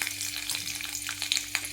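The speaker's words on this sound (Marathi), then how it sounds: "तर लसूण घालून घेऊया फोडणीसाठी." Garlic sizzles in two spoons of hot oil for a tempering while cooking a spinach dish, giving a steady close crackle with a few sharper pops, and no talk over it.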